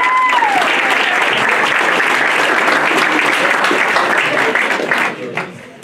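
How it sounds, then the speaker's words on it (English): Crowd applause at a scholarship signing celebration for a sports medicine scholarship to Howard College, dense continuous clapping with a few whoops and voices mixed in, fairly loud and close, tapering off near the end. "let's give him a round of applause"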